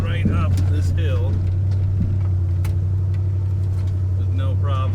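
A 1985 Ford F-250 4x4 with a 460 big block V8 climbs a hill, its steady loud engine drone running continuously up close while people talk over it.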